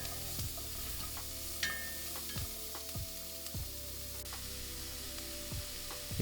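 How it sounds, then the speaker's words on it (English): Mirepoix cooks in a cocotte for coq au vin with a soft, continuous sizzle, while regular low knocks and scrapes of stirring recur roughly every second. "In the same cocotte, we can now add the mirepoix."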